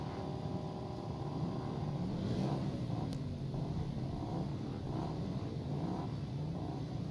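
Racing motorcycles on a practice sighting lap around a racetrack, heard as a steady blended engine drone at moderate distance with a faint passing rise in pitch, continuous throughout.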